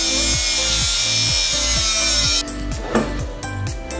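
A power saw cuts through a steel bracket on a car's steering knuckle during a drift car build, its fast rhythmic strokes buzzing loud and close before the blade breaks through and the sound turns ragged.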